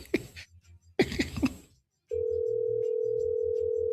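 A telephone line sounds a steady, unbroken tone after a couple of short bursts of activity, with a low pulsing rhythm underneath and nobody speaking.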